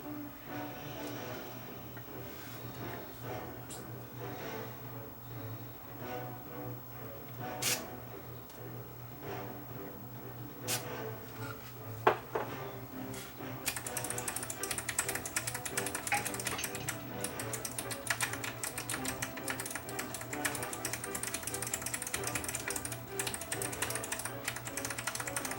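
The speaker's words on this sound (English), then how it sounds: "I'm going to give the low and high filter and muting buttons here a shot of cleaner." Contact cleaner sprayed into the buttons of a Sansui 7070 receiver under restoration. Scattered clicks and taps of the buttons being worked come first, then a sustained, close spray hiss with steady clicking.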